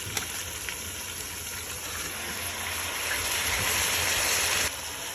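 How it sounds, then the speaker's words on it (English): Meat searing in a hot pan for a Moroccan tajine, giving a steady close sizzle and hiss that swells slightly toward the end, with no talking. "So now we're gonna sear the meat for about 4 minutes on each side."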